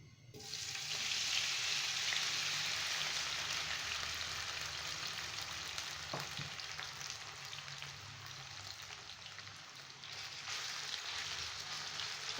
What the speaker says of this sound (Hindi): एक फ्राई पैन में मैंने ऑयल डाल के तकरीबन 6 टेबल स्पून ऑयल डाला था, रख दिया है गर्म होने के लिए, जो कि गर्म हो चुका है। अब मैं उसमें ये आलू डाल दूंगी।